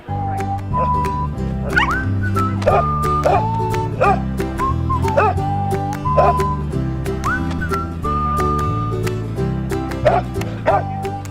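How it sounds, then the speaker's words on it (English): Dogs at an outdoor dog show on Cape Cod bark repeatedly and loudly at close range, with short rhythmic yips over a busy background that includes whistle-like tones. "This is our 105th and 106th dog show."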